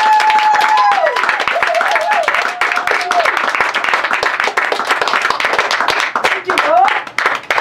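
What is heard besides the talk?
hand clapping in praise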